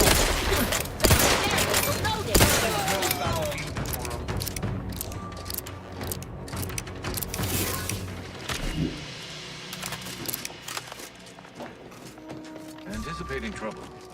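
Gunfire in The Outer Worlds 2 video game: rapid, crackling shots and bursts of mechanical clatter, densest at the start and thinning out over a busy, noisy background with voices speaking.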